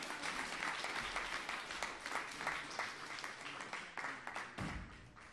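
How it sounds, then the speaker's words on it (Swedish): Evening church conference congregation breaking into applause, a dense wash of many hands clapping that swells and then fades toward the end, fairly distant and faint. "Kan du ge Jesus en applåd här ikväll?"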